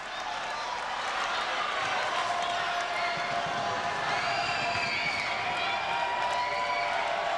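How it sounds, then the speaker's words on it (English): A volleyball crowd at the Coliseum roars and cheers continuously for the Nebraska Huskers in a 1989 match against Hawaii, a dense, sustained wall of arena noise. "The crowd at the Devaney Center urging their Huskers on."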